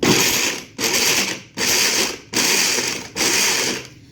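A blender motor whirs in five quick, even pulses breaking up fruit for berry sorbet, each burst lasting under a second with brief gaps between, loud and close with no talking.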